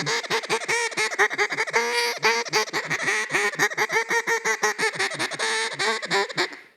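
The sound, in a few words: duck call imitating feeding ducks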